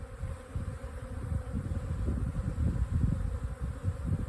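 Honey bees buzz at an open hive during a colony split, a dense, close, continuous hum of many wings rising and falling slightly, with no talking.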